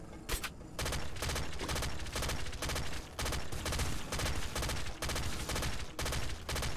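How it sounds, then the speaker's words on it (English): Frost Assault Rifle firing in Nuclear Throne (Ultra Mod), loud repeated bursts of rapid gunfire in a steady rhythm, each burst a dense cluster of shots separated by brief gaps, with no talk. "Frost Assault Rifle could be our saving grace here."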